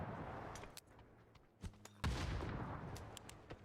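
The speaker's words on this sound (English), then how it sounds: "The nades are good, and the barrage keeps continuing" Gunfire and grenade blasts in a PUBG esports match: faint, scattered sharp shots and pops, then a couple of louder thumping explosions, heard at a distance with quiet gaps between.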